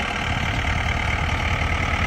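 John Deere 4 Series tractor with a loader, its diesel engine running in a steady close rumble with a faint knocking texture, constant and loud throughout.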